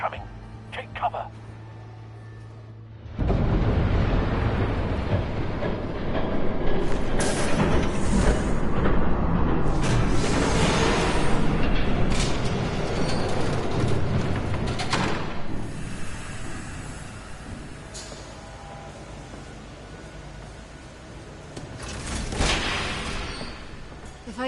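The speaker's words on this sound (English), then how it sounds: "There's a train coming." A train rumbles past in the Batman: The Telltale Series video game, a heavy, sustained roar that begins abruptly after a quiet opening and holds loud and close before easing off toward the end.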